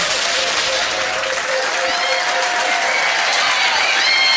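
Audience at a trivia quiz night applauding, a dense, continuous clapping from a sizeable crowd, loud and close, with a few faint whoops mixed in.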